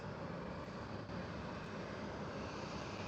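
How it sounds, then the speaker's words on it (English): A KLM Boeing 737-700 airliner at Schiphol gives off a continuous, even, broadband engine roar, faint but steady with no breaks. "KLM 737 and it's a 700"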